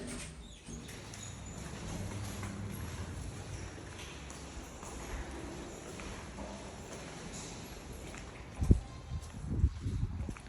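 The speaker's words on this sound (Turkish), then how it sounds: "Rüzgar var yine." Low, steady wind rumble fills the background, with a few louder gusty buffets near the end.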